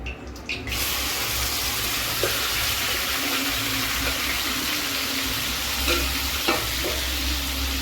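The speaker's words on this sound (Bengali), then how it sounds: "তেল গরম হয়ে গেছে, এখন আমি পনিরটা দিয়ে দেবো।" A loud, continuous sizzle as paneer fries in hot oil. A brief clatter opens it, then a dense, even hiss fills the rest.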